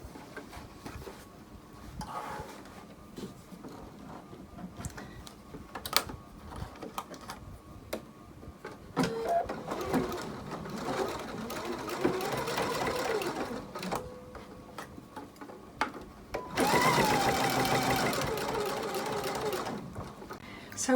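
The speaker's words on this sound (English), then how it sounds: "what we have to do is stitch the opening closed." Home sewing machine stitching the binding opening closed on a quilted potholder, a fast whirring hum in two main bursts between quieter handling sounds and a voice talking.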